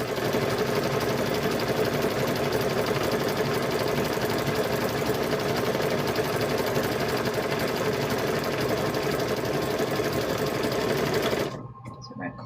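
A sewing machine runs a steady zigzag stitch, joining rope to the handles of a quilted handbag. The motor hums close and loud without a break for about eleven seconds, then stops abruptly.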